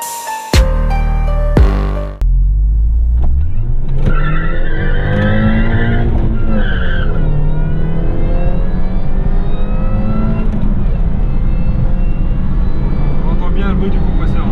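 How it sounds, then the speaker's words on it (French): A Mini Cooper S accelerates hard, its supercharger whine rising steadily over the engine roar from inside the car, after a brief burst of music and a thump at the start. "On entend bien le bruit du compresseur."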